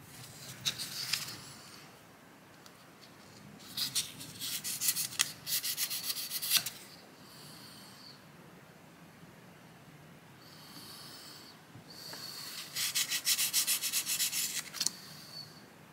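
A 1200-grit sandpaper rubs against the small steel extractor of an antique Carcano rifle in several short, scratchy bursts separated by pauses, close and quiet.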